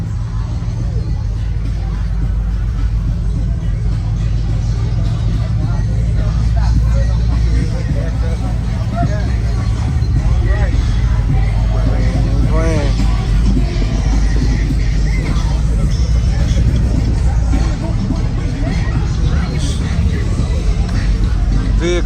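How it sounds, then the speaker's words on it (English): Crowded outdoor East vs West car show in Detroit, a dense wash of crowd babble and idling, revving vehicles continuing without a break, loud and close, with people talking throughout. "Vehicles everywhere, activity everywhere."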